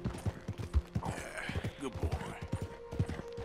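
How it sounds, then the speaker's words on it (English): A horse in Red Dead Redemption 2, agitated by a predator such as wolves, stamps and clops its hooves in a quick irregular rhythm, fairly faint, with voices talking alongside. "O cavalo está agitado devido a um predador."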